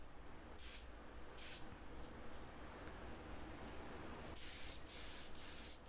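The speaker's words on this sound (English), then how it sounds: "My first thing that I do is I spray straight up lacquer retarder onto the existing lacquer" Lacquer retarder hisses from a spray can onto an acoustic guitar's existing lacquer finish in short bursts at first, then one steadier, longer burst, close and soft.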